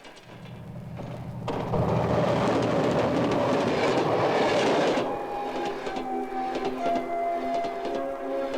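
A train rumbles past at close range on the Soviet railway circle around Ailanpa, its roar swelling and holding steady, then easing into a lighter rolling clatter with faint tonal squeals from the wheels.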